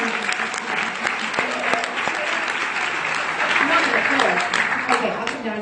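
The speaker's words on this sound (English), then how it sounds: "Give her a round of applause" A convention crowd applauds a contest winner, a sustained round of clapping with cheering, and voices talking over it throughout.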